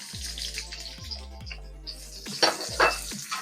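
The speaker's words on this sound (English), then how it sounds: "I'm going to just heat up some oil. I'm going to add some onions" Onions dropped into hot oil in a pan give a rising sizzle and crackle, with a few sharper bursts toward the end over steady low hum, no one talking.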